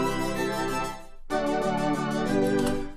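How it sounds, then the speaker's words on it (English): Synth preset playing a chord pattern with a triplet-rhythm filter bounce, dry with no effects, pulsing steadily and loud, with a brief dip before the chord changes and continues. "The synth itself has this triplet bounce."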